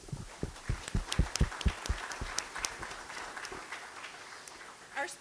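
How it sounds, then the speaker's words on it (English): A brief round of applause from the audience at a consumer policy lecture, with separate sharp claps near the start that thin out into sparser, softer clapping. "we'd like to thank him with a round of applause"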